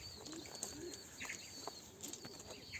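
A grey crested, spotted female tumbler pigeon coos softly in short, low, throaty phrases at close range, with a quiet background hiss and faint chirps around it.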